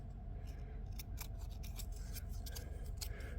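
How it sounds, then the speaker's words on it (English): Scissors snip a tab off the running board of a 1978 Ford F-250 4x4, several sharp metallic cuts sounding close over a steady low background rumble, with no talking. "Make a little trim here to get the little tab that didn't break off very easily."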